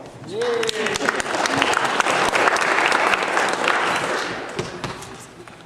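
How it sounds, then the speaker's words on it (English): Audience applause at a Boy Scouts Court of Honor, a dense burst of clapping from a crowd that swells and then tapers off, with a voice speaking briefly at the start. "It's okay to applaud."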